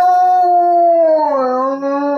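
A wolfdog, a German Shepherd cross, gives one loud, sustained, close howl that holds its pitch and then dips slightly.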